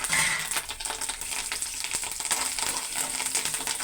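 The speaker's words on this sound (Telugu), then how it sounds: "చక్కగా ఇవన్నిటిని కూడా తాలింపులన్నీ వేపాలండి బాగానే." Urad dal, chana dal, curry leaves and dry red chillies sizzle and crackle in hot oil for a South Indian tempering, a steady close frying hiss with scattered pops and no talking.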